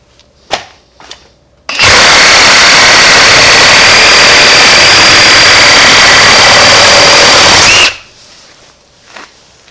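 A Ridgid Gen5X Octane reciprocating saw rips through a treated 4x4 with a loud, sustained, harsh buzzing roar that runs steadily for about six seconds, then cuts off abruptly; a few faint knocks before and after.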